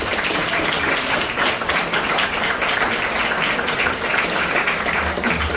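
Audience applause for two speakers at an informational forum on the crisis in Haiti, dense and steady clapping that holds at an even level throughout with no voices.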